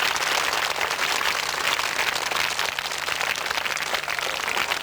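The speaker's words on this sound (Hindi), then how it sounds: "जोरदार ताली बजाइए एक बार।" Loud, dense applause from a large audience at a school annual day celebration, many hands clapping steadily and continuously with no pause, filling the hall evenly throughout.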